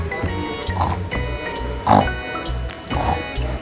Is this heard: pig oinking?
yes